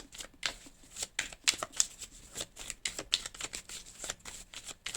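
A deck of tarot-style cards is shuffled by hand at close range, with quick riffling flutters and soft slaps repeating in an uneven rhythm. A card is drawn and set down at the end.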